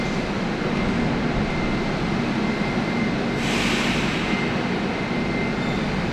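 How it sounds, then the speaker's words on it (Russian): A steady, rumbling train drone fills a Moscow Kursky station with a broad hiss and low roar, heard up close with no voices. "О, какой красивый поезд."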